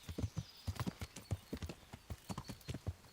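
Horse hooves in the game Kingdom Come: Deliverance, a quick, steady clip-clop of sharp hoof strikes at a brisk walk or trot, fairly faint and unaccompanied.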